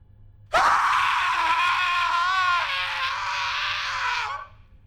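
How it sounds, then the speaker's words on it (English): A sudden loud, drawn-out scream bursts out after a brief quiet, holding a wavering high pitch for about four seconds before trailing off, heard alone. "followed by a scream."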